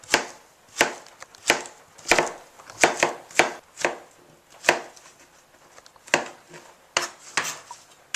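A knife chopping zucchini into sticks on a cutting board, with about a dozen sharp, irregular thuds close by, clear and without talking.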